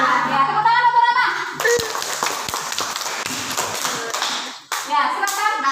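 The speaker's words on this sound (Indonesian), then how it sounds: "tepuk tangan untuk Rama" Fifth-grade children in an elementary school classroom clap their hands in a lively round of applause that starts after a teacher's brief speech and continues steadily to the end.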